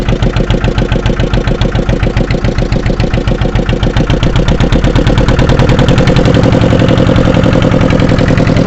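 A motorboat engine on a ferry boat, with the owner at the helm, runs loud and close, a steady fast rhythmic chugging throughout with no talking.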